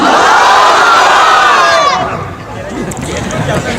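A large crowd at an Islamic religious gathering shouts takbir in unison, a loud, sustained roar of many voices that fades briefly before swelling again.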